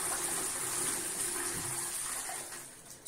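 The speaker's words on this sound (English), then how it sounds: "so let's flush" Water rushes steadily from a flushing Shires back-to-wall toilet in a disabled toilet at Ballyfermot Leisure Centre in Dublin, a close hissing gush that holds evenly and fades near the end before a brief sharp knock.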